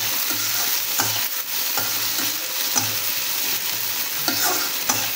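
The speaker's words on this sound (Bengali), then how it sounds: "নাড়াচাড়া করে একটু ভেজে নিচ্ছি।" Onions frying in a pan with a steady, close sizzle, regularly broken by scraping stirs with a utensil.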